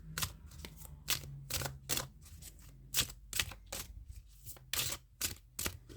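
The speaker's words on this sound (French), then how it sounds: "Je mélange bien mes cartes" Tarot cards are shuffled by hand in a quiet room, a series of crisp, quiet riffling clicks and snaps in an uneven rhythm, close by and alone.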